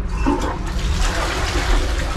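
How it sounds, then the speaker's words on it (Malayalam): A toilet flushing in a bathroom in Indonesia: a steady, close rush of water that runs throughout with no one talking. "ഫ്ലഷ് ഒക്കെ വർക്ക് ചെയ്യുന്നുണ്ട് ഇവിടെ"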